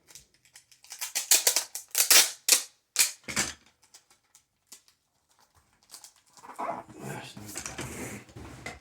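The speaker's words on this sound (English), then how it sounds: "Lap the tape. Snip." Scissors snip packing tape during package sealing: a quick burst of sharp clicking cuts, followed after a pause by tape rustling and handling noise.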